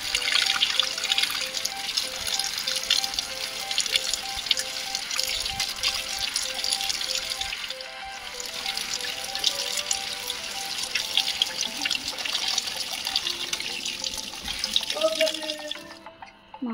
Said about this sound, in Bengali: পরিষ্কার করে ধুয়ে নেব। আমি একটু গরম জল দিয়ে আবার পরে ধুয়ে নেব।